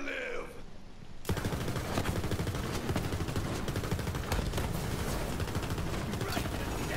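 Borderlands 3 gunfire from the Skeksil pistol bursts in after a quiet opening second, then rattles on as dense rapid shots and explosive pops filling the rest of the stretch, loud and continuous.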